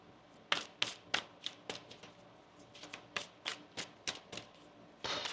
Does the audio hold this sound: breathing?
no